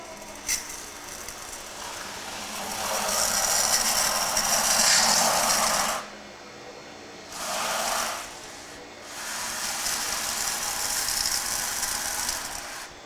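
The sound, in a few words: butterfly valve on a beer unitank being opened slowly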